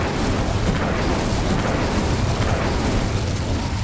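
The Incendio fire spell in Hogwarts Legacy makes a loud, sustained roaring burst of flame, dense and rumbling throughout without a break.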